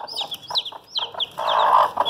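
Newly hatched GLZ and ISA Brown laying-hen chicks peeping close by, a quick series of high, sliding cheeps repeated in short clusters, with a brief louder, rougher chirp among them.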